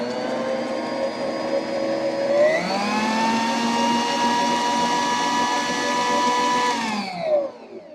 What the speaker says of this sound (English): So I'm going to mix up this butter.